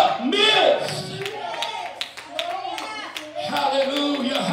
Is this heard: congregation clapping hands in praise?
yes